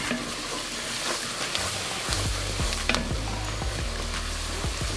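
Vegetables for a New Orleans style shrimp Creole sizzle steadily in a pan with a cooking roux, with repeated scraping stirs and clinks of a utensil over a constant frying hiss.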